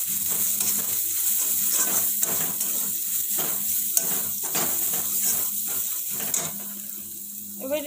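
Cumin, coriander and turmeric powder fry for kadhai mushroom curry with a steady close sizzle and repeated scraping stirs through it, and no one speaks.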